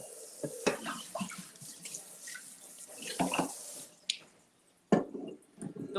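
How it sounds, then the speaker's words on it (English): Dishes being rinsed under a running kitchen tap, water splashing and clattering in uneven bursts with brief pauses, close by. "Mom says clean as you go, so just rinsing off"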